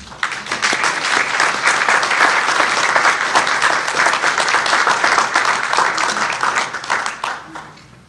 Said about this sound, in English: it's always a good idea to get the applause out of the way first